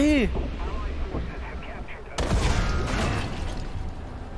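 Tank shells explode in War Thunder during a battle with a British Centurion Mk10, a sharp booming blast landing midway over steady rumbling, with someone talking nearby.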